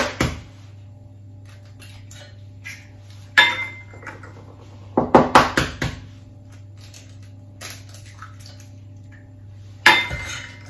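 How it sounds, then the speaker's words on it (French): A spoon knocks and scrapes in a bowl while eggs are mixed into almond cake batter, with scattered clinks and a cluster of quick taps over quiet kitchen hum. "Je continue de mélanger mélanger avec la cuillère magique"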